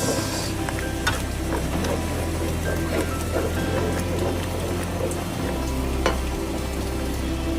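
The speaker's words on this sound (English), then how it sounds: "Mix it together, egg, bacon, garlic, onion, everything mix." Egg, bacon, garlic and onion frying and being stirred together in a pan for carbonara, a steady close sizzle with occasional scrapes and clinks.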